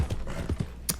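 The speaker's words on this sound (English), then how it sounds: "Hosea's massive Shire horse that he has." A massive Shire horse in Red Dead Redemption 2 walks with an uneven clip-clop of hooves, several distinct, close thuds spread across a short stretch with no talking.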